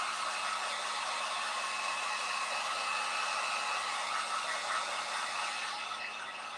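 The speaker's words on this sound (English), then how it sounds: "So I'm going to use my heat gun on those." A heat gun blows steadily on a fall leaf craft, a continuous airy whoosh with a faint whine that holds even, then eases slightly at the end.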